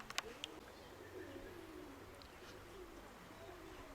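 Soft pigeon coos murmur faintly in a quiet space, low and drawn out, with a few small clicks at the start.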